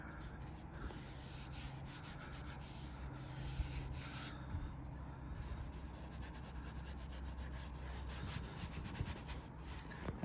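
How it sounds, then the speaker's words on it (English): Microfiber cloth rubbing an interior wood finish into a surface, a steady close scrubbing swish that runs continuously with light scratchy strokes and no talking. "I'll probably have to get a microfiber cloth and then just kind of rub it in"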